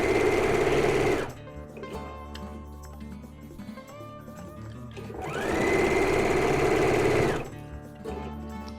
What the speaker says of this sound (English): I'm going to sew right down the stitching line that I sewed my welting cord together